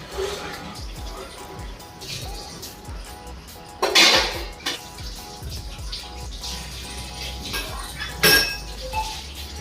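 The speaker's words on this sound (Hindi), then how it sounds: "आपका भाई बर्तनों का पहाड़ धोने वाला है" A big pile of dishes, pots and pans being washed at a tap, with running water and scattered clinks of plates and glass and two louder clattering bursts, heard close under a low background hum.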